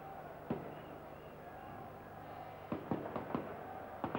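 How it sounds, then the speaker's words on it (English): Firecrackers set off by Spanish supporters in the stand at the 1979 Cup Winners' Cup final between Valencia and Arsenal, a burst of sharp cracks and pops over a constant crowd roar, some isolated and others in quick clusters. "Firecrackers in the background from the Spanish supporters."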